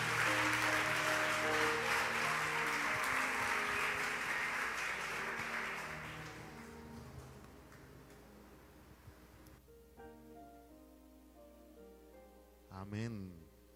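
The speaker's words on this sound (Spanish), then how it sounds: "Un aplauso a Jesús" A church congregation applauds during a sermon in a full burst of hand-clapping that gradually fades away, leaving quiet room sound and a brief voice at the end.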